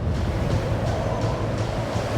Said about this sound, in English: Here comes Hurricane Dorian.